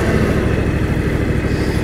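A John Deere X738 riding lawn mower engine idles steadily at low idle with a low, even putter, close and constant, with no revving or voices.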